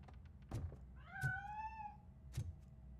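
A cat in Robocop: Rogue City lets out a single clear, drawn-out meow lasting under a second, close and distinct, set between a few dull thuds against a quiet background.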